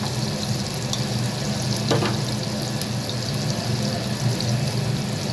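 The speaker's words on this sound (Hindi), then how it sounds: "थोड़ी सी प्याज भूनने देंगे।" Onions sizzling and frying in a pan, a steady broadband hiss that stays even and continuous, close up, with no talking.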